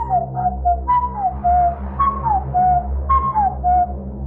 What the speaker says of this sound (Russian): в 3 часа и 3 минуты мы услышали насвистывание